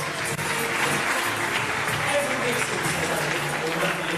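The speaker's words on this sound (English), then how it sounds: "Helen Stewart from Keighley, give her a nice round of applause" A seaside holiday-park audience gives a contestant leaving the stage sustained applause, a dense, even wash of clapping with murmured crowd voices beneath it.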